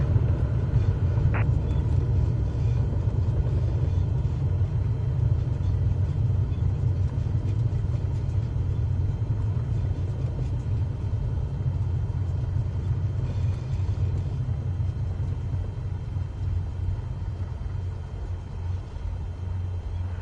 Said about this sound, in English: Now, apply the brakes to slow us down and bring the plane to a stop.